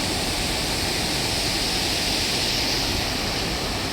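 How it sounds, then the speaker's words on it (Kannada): A river tumbles over a drop in a dense, unbroken roar of falling water, loud and close, steady for the whole stretch with no voices. "ನೀರು ಹೆಂಗೆ ಬೀಳುತ್ತೆ ನೋಡಲ್ಲಿ."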